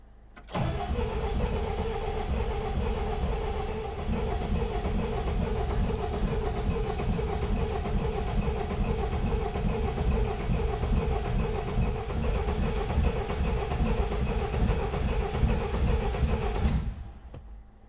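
A starter motor on a rusty, non-running classic Peugeot 404 pickup cranks continuously for about sixteen seconds, a steady rhythmic churning at close range that never catches, then stops abruptly.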